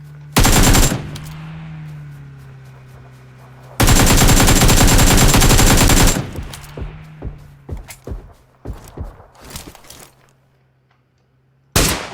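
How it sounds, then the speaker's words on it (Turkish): Loud close gunfire in PUBG Lite comes as a short automatic burst, then a longer sustained volley, a run of scattered single shots, and one more sharp burst at the end. "Pencereden atlayan adamı havada vurdum."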